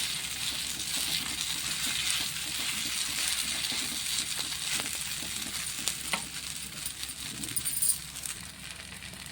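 Corn flour batter sizzles and fries in oil in a pan, a steady crackling hiss with occasional scraping clinks.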